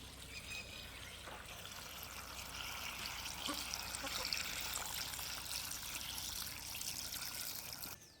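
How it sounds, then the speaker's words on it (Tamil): Peanuts being washed in well water in a village garden, with a steady, soft trickling and sloshing of water that continues almost unbroken at moderate distance. "நாங்கள் நல்ல தண்ணியில் கழுவி எடுப்போம்."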